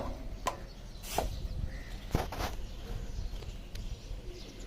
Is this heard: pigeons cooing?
yes